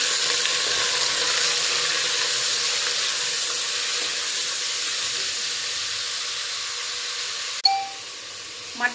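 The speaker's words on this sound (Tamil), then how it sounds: "இப்போ மட்டன் இதில் சேர்க்கணும்." Mutton frying in hot oil with mustard seeds and curry leaves gives a steady, close sizzling hiss throughout, with a brief metallic clink near the end.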